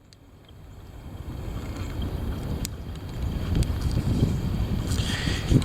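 Heavy wind buffeting the microphone, a low rumbling roar that builds steadily from quiet to strong and gusty, continuous and close.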